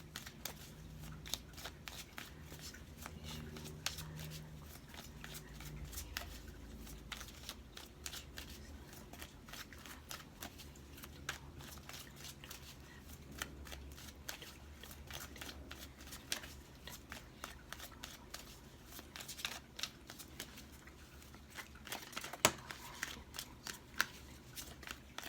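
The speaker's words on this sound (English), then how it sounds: "I'm going to shuffle 2 more times" Tarot cards are shuffled over and over, a steady run of soft riffling snaps and flicks, close by and fairly quiet, with no talking.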